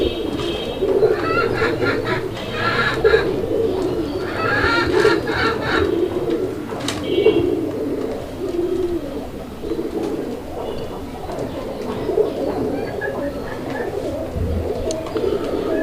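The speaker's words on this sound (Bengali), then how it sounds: "আপনারা দেখতে পাচ্ছেন নরটা কি পরিমাণ ডাকা ডাকে" A male pigeon coos repeatedly in close, rhythmic bursts, with other birds faintly audible around it and steady background noise throughout; the pigeon is nesting beside a pair of eggs.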